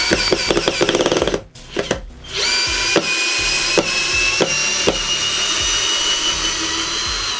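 Procraft PA212 cordless screwdriver driving a screw into wood, a whirring motor run that stops, a few knocks, then a long steady whine with repeated clicks as the bit and screw slip.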